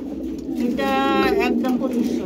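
A pipe beauty pigeon pair gives a soft warbling coo, close by over a steady low background hum, with no talk over it.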